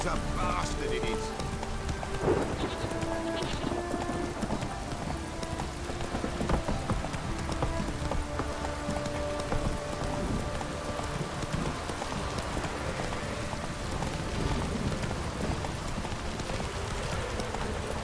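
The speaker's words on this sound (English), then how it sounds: "This downpour's a bastard, it is." A horse clip-clops at a run through a heavy rain downpour in The Witcher 3 game, rapid hoofbeats over steady hissing rain, with a voice speaking over it and scattered game sounds.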